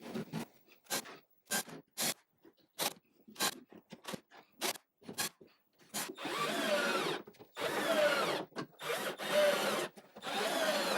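Holes drilled into a downdraft sanding table in a workshop, a series of short sharp bursts at first, then longer, louder drilling runs of a few seconds each, close and alone.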